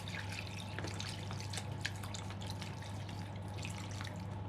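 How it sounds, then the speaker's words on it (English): Water runs and trickles into a pot of duck bones being covered for stock, a continuous splashing flow with scattered drips over a low steady hum, close and moderately quiet with no voices. "And now we're going to add some water. You need enough water to cover the bones."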